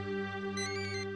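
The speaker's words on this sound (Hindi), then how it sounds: "सुबह सुबह मानसी का फोन।" A phone rings with a steady electronic tone, sustained and moderately loud, brightening partway through with a pulsing melodic pattern.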